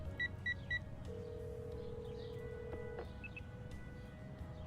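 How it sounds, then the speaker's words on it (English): A phone number being dialed in the video game ACE Academy: three quick electronic beeps near the start, then a steady, faint tone held for a couple of seconds over low background hum. "I punch in Nikki's phone number and wait for her to answer."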